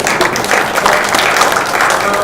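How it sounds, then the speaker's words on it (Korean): Audience applause at a regulatory reform and jobs event in Incheon, a dense continuous wash of clapping from a room of people, fairly loud and even throughout. "계신 분들이 한번 박수를 한번 쳐드릴까요?"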